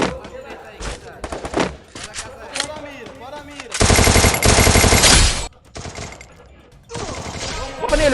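Machine gun fire in the mobile battle royale game Free Fire, in a 4v4 match: loud rapid-fire bursts of varying length, separated by short pauses, with players talking in between.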